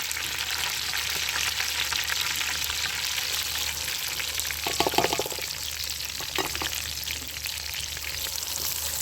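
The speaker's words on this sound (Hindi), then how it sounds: "अब इसी घी में मैं प्याज डालने लगी हूँ।" Onions fry in hot ghee with a dense, continuous sizzle, steady and close, with a few brief clinks and stirring sounds midway and no talk.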